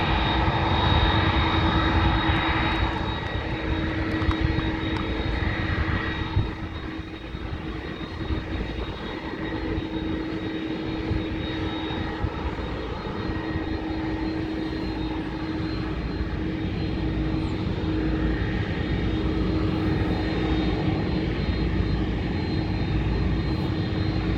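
An Airbus A330 airliner at London Heathrow: a loud, continuous engine roar with a steady whine, holding strong throughout and fading only slightly, with no talk.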